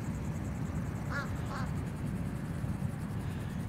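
Two short quacks from a duck during border collie herding training, faint and a half-second apart, set against steady outdoor wind and low rumble.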